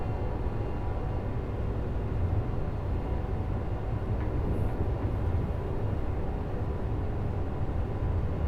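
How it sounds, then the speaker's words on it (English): A fast train rumbles along steadily in Train Sim World 5 on the East Coast Main Line, a dense continuous roar of wheels and motors with no breaks. "It's a pretty fast train"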